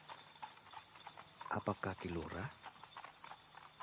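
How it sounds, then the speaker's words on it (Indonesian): Horse-drawn carriage hooves clip-clopping at night in a quiet village, with a brief burst of faint hoofbeats in the middle of a radio drama while people talk quietly around them. "Seperti suara kereta kuda."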